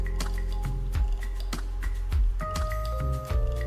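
Lime juice is squeezed by hand over chicken perattu, a Kerala dish, giving a series of wet squishes and distinct drips that fall at an uneven pace, close by and clear.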